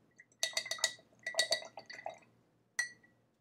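A paintbrush is swished and tapped in a glass of water, giving several quick clinks and light splashes in bursts, then a final single clink, close and quiet with no speech.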